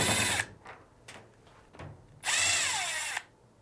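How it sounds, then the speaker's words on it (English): A power drill removes screws from the lid of a Fisher & Paykel fan and motor assembly, giving two close, loud bursts of whirring with brief clicks and pauses between them and no talk. "we'll now remove the two screw covers and the two screws"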